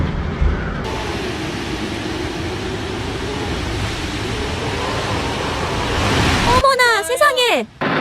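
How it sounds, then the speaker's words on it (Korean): Typhoon Kajiki's powerful wind roars outside a building in Sanya, China, a steady, dense rushing noise that builds slightly before a voice breaks in near the end. "밖에서는 바람 소리도 엄청나고"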